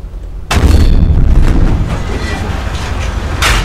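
A 120mm rifled tank gun fires in the Roblox tank game Tankery, a loud, sudden boom with a heavy low rumble that lingers as gunfire and battle noise continue behind it, followed by another sharp burst near the end.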